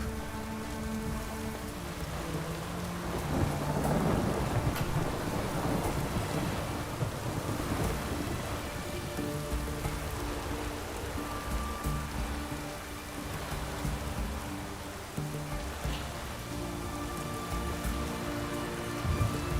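Continuous rain falling in the video game The Witcher 3: Wild Hunt, a dense, even patter with occasional low rumbles and muffled game sounds underneath, with no voices.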